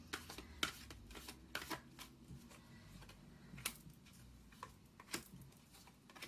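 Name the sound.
tarot cards being shuffled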